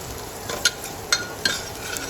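Steady sizzling of a spice tempering of turmeric and asafoetida in hot oil, with a few sharp metallic clinks of a spoon against the pan.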